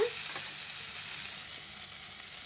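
Fried okra going into a hot pan, a steady close sizzle with light stirring, easing slightly in volume toward the end.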